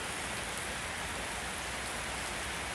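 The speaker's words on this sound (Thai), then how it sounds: "โอ้ฝนเริ่มตกแรงมาแล้วนะคะ" Heavy rain falls in the evening, a dense, steady hiss of drops filling the whole clip at an even, moderate level.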